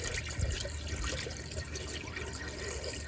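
RV antifreeze poured down the drains of an RV camper being winterized, heard as a steady, close gurgling stream of liquid running without pause for a few seconds.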